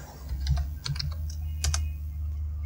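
Someone types on a computer keyboard into a web browser, giving light, close clicks in small irregular clusters with short pauses between them, and no speech.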